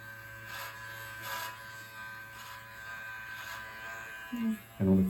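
Electric beard trimmer running steadily at close range with a constant buzzing hum, a few short louder bursts near the end.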